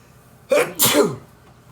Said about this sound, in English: Normally sneeze pretty loud.